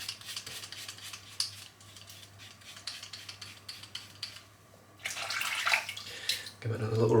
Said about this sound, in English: Give it another little rinse and just crystal clear.